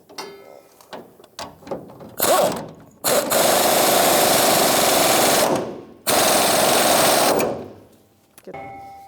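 An air impact wrench tightens leaf spring shackle bolts on a 1992-1996 Ford F-150, first in short rattling bursts, then in two long, loud, steady hammering runs separated by a brief pause.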